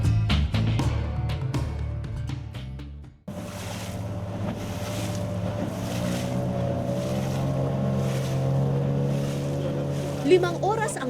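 A boat engine drones steadily on a river in the Amazon near Manaus, Brazil, with wind and splashing around it, after a brief stretch of other sound at the start.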